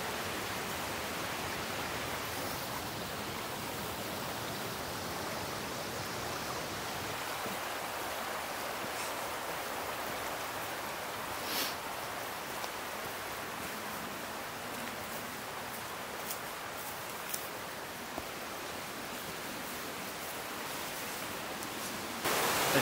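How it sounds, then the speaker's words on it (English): Loud, steady rushing of flowing water fills the whole clip with a constant broadband hiss, with no voices. "And the water is just as loud as ever."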